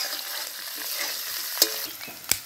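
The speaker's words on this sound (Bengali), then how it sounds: "আমি এখন ক্যাপসিকামটা দিয়ে দেবো, দিয়ে দেবো কয়েকটা লঙ্কা কুচি, দিয়ে আবার মিশিয়ে নেব।" Capsicum and chopped chillies hiss and sizzle loudly in a frying pan for vegetable chowmein, with two sharp clacks of the stirring utensil against the pan. Nobody speaks.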